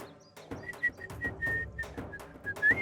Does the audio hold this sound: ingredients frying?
no